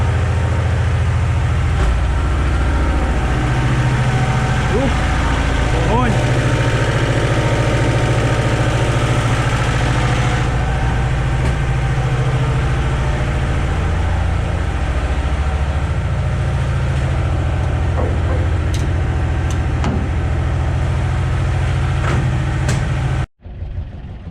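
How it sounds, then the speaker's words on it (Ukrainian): An old ZAZ-968 Zaporozhets engine idles steadily in a loud, close, continuous rumble with an even low throb, ending abruptly near the close. "так повинен працювати запорожець."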